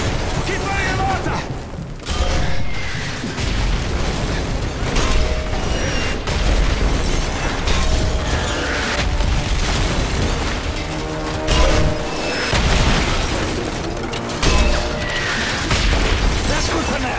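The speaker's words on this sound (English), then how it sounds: "If it moves, put a mortar shell on it" Mortar shells blasting around a village in Call of Duty: Modern Warfare 3, with repeated loud booms and bursts over constant rumbling battle noise, mechanical clatter and distant voices throughout.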